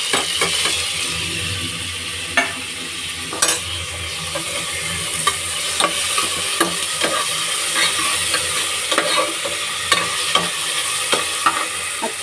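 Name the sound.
tomatoes and onions frying in a pan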